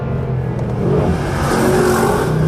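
A Mercedes Black Series engine revving hard on a wet track, a loud sustained roar building in pitch from inside or near the car, with no voices.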